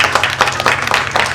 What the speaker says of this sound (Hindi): मैम पर आप सभी लोग तालियां बजाएं